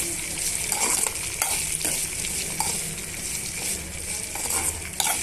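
Garlic cloves frying in a pan for a tamarind chutney, a steady close sizzle with repeated stirring scrapes and a few light clinks throughout.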